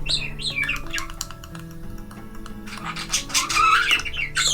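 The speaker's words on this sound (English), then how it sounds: "Bird song, budgies, doves, it's the birdemic." Budgies and doves make a busy mix of bright chirps, squawks and warbling tweets, fairly close and continuous, building to a denser burst of chatter toward the end.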